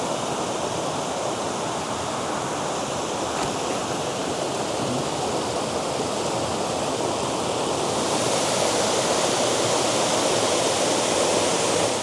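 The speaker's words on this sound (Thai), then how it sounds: "และนี่ก็คือน้ำตกแม่กระสา ในวันที่ น้ำเยอะมาก" Mae Kasa waterfall near Mae Sot, Thailand, runs with very heavy flow into a pool, making a loud, steady, close roar of rushing water that never lets up and has no voices over it.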